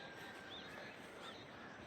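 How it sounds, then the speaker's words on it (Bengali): In the early morning at Mandarmani, birds call faintly over a steady outdoor hiss, with a couple of thin, rising cries standing out; no clear rooster crow comes through. "মোরগ ডাকার আওয়াজ, পাখির আওয়াজ"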